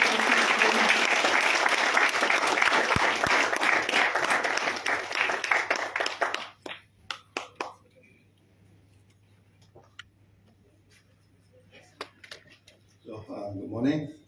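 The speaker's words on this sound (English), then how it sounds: "give Datuk Lim a warm welcome and a loud round of applause" An audience gives a warm welcome to Datuk Lim at a formal event with dense, loud applause for several seconds, which thins into scattered claps and dies away. A voice is heard near the end.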